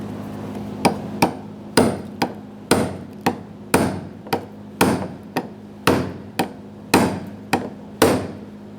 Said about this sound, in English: we're going to use a hammer and a brass punch